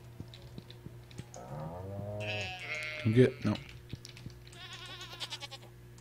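A goat in the Stardew Valley farming game gives a short bleat from the barn, heard under a voice talking, with clicks of a keyboard and a steady in-game hum behind.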